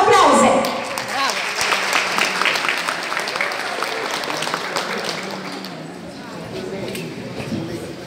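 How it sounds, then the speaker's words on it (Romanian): Audience applause at an outdoor folk festival in Mehadia, a dense sustained clapping from a crowd that starts loud and slowly thins over eight seconds. "Să le urăm succes și să-i întâmpinăm cu aplauze!"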